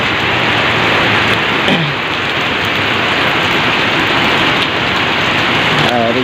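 Steady morning rain pouring down outdoors, a dense continuous hiss of drops on surfaces that fills the whole stretch, with faint passing traffic underneath and no talking.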